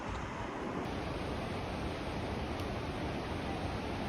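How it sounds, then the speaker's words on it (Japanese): A waterfall and river rush in Kings Canyon National Park in the Sierra Nevada, making a continuous, even roar of water close by with no voices. "うわー、滝っぽい。"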